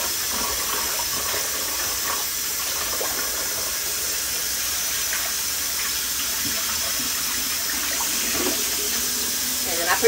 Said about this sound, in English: and just drain that water off.